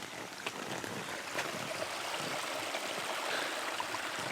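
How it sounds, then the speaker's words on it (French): A small stream flows through high-mountain forest, making a steady, continuous babble and rush of water, close and alone with no voices. "Le petit ruisseau qui va bien."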